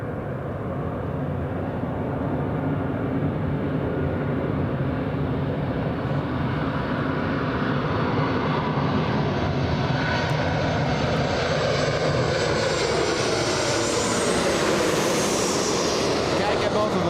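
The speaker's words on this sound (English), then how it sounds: "737 United Airlines barely lifting off right now" A United Airlines Boeing 737 takes off down the runway at LAX, its jet engines producing a loud, steady roar that holds for the whole stretch and shifts slowly in pitch as it passes.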